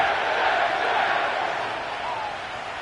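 A large stadium crowd roars in an EA Sports football video game set at MetLife Stadium in East Rutherford, a dense, steady wash of cheering and crowd noise that slowly eases, with no clear speech.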